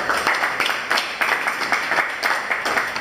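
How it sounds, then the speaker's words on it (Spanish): A short burst of loud, dense clapping from a crowd, steady and continuous for a few seconds. "Un aplauso fuerte"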